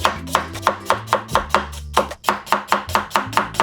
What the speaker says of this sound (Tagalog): Okay, so iwain ko lang dun sibuyas.